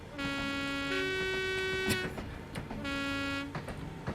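A deep, harmonically rich horn of a Class 37 diesel locomotive in a train simulator game sounds in two long blasts with a short pause between, over a low engine rumble.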